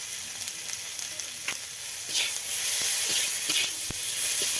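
Chopped tomato frying with turmeric and salt in a pan for a Bengali cabbage dish, a steady close hiss of sizzling oil with occasional sharp spatters and pops, no talking.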